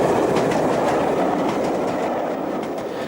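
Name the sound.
steam locomotive train running on railway, archive film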